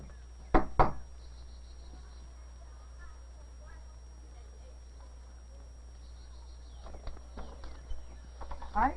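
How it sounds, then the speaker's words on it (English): A few sharp knocks on a door at the start, loud and close, followed by quiet room tone and a soft voice near the end, from an old 16mm film soundtrack. "I figured out a way I could go knock on her door."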